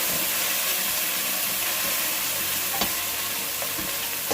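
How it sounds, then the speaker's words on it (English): Methi rice ingredients fry and sizzle steadily in a pan, with a constant close hiss and occasional stirring scrapes and small pops throughout. "Just frying for 2 minutes or 1 minute."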